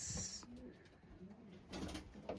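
A racing pigeon coos softly on arrival at its loft after a hard 246 km race from Owhango, New Zealand, the low repeated coos sounding through light background noise.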